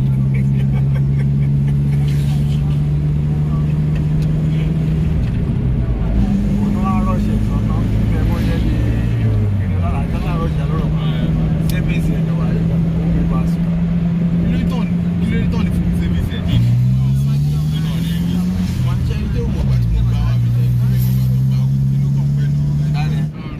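Steady engine drone inside a cab travelling along a partly rebuilt expressway toward Agbara, with the pitch shifting as the car changes gear and speed and faint passing traffic, continuous and close throughout.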